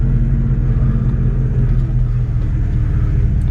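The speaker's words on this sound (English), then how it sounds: "Nice sounding engine." A 1966 Ford Mustang convertible's engine runs steadily at idle, a low continuous rumble filling the whole stretch, close and fairly loud with no voices.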